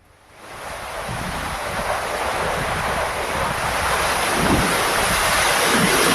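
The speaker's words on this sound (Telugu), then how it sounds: "అల్లూరి జిల్లా పాడేరులో భారీ ఈదురుగాలులతో కూడిన వర్షం కురిసింది" Heavy rain driven by strong gusty winds sweeps over Paderu in Alluri district, a loud steady roar that swells up within the first second and then holds with no talk.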